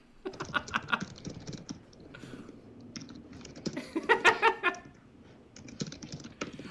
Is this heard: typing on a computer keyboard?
yes